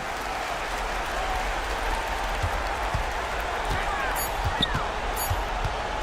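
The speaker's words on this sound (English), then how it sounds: "So the home crowd happy here as they get the victory." A home crowd roaring steadily in a basketball video game, a broad continuous wash of cheering and applause with a few ball bounces and squeaks underneath.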